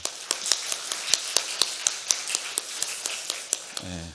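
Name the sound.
applause for the church leaders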